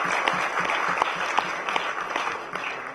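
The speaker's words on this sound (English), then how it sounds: "जोरदार तालियां हो जाए" Audience applause for award winners at a community radio gathering, a dense steady round of clapping from a crowd with sharper individual claps standing out, loud and sustained throughout.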